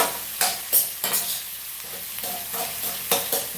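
Tomatoes being sautéed in a pan for tomato rice, with a low sizzle and a steady run of spoon scrapes and clicks against the pan, close up, no talk.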